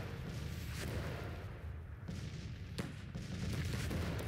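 Civil War cannon artillery in the strategy game Grand Tactician fires in a continuous dull rumble of distant booms, with a few sharper reports standing out against the sustained battle noise.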